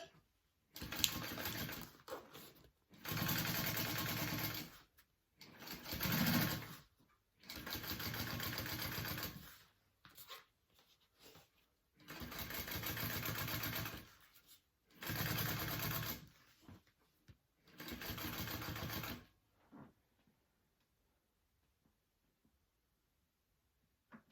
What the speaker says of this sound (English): I'm going to flip it down and top stitch it.